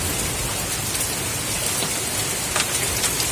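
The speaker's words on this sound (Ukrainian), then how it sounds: "Ось такий град з криші, бачите, падає." Hail pours off a house roof in July, a dense, steady patter and rattle of falling ice with a few sharper hits, loud and continuous without any talking.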